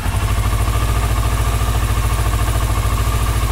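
A Kawasaki Versys 650 motorcycle engine idles just after starting during an oil and filter change, giving a loud, close, steady mechanical chug with an even rhythm and no voices.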